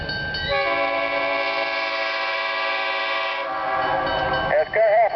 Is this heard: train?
yes